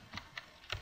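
Typing on a computer keyboard: three soft, close key taps spaced irregularly within a second, quiet against faint background hiss.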